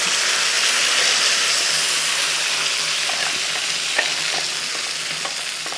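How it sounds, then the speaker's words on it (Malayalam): Curry leaves fry in hot oil in a pan, giving a steady close sizzle with occasional soft scrapes of stirring and no talking. "കൂട്ടത്തിൽ ഒരു തണ്ട് കറിവേപ്പില ഒന്ന് ഇളക്കി കൊടുത്ത് ഇതൊന്ന് മൂപ്പിച്ചെടുക്കും"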